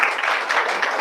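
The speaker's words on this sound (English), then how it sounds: "Shall we have a good applause to them?" Applause after a team's group presentation in a classroom, a brief burst of dense clapping from many hands, fairly close and steady throughout.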